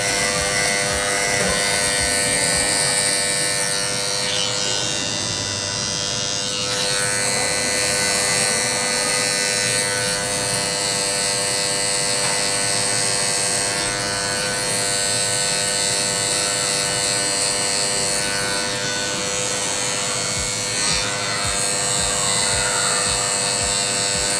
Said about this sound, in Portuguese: você vem com a máquina de acabamento de novo e retira